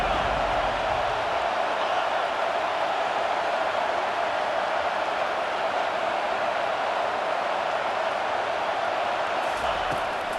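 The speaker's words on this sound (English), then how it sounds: "Here comes this home crowd as the defense tries to get off the field on 3rd down." Home stadium crowd in EA Sports College Football 25 roars as the defense faces third down, a dense, loud, steady wash of cheering that holds unbroken throughout, with commentary talk underneath.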